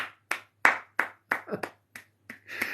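Several sharp hand claps in an uneven rhythm, close by, with a brief burst of voices near the end.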